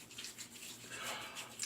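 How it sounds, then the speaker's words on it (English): Water pouring onto a sample shaving soap puck to bloom it before a razor shave, a soft steady splashing trickle running continuously, close and fairly quiet. "so let's put the bloom water on"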